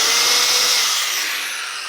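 A 5.2-amp electric drill runs steadily on a Power Jack 5000W low-frequency split-phase inverter, a loud, continuous high-pitched motor whine that slowly fades as it winds down.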